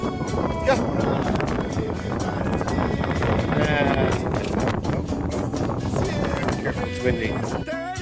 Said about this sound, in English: Careful, it's windy.